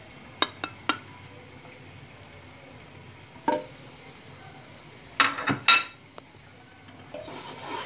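Grated garlic frying in a pan, a quiet steady sizzle with occasional sharp clinks and scrapes of a utensil against the pan.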